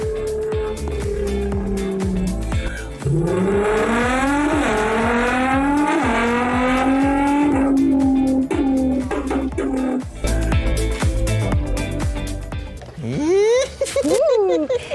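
A teenager vocally imitates a range of car sounds, voicing rising and falling engine revs, racing pass-bys and a screeching tire squeal in loud, continuous bursts with brief pauses between effects.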